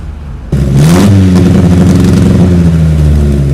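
A 1988 Chevette SL engine revs up hard and holds near, loud and steady, as the carburetor's second stage opens, giving a strong sustained roar after an abrupt start.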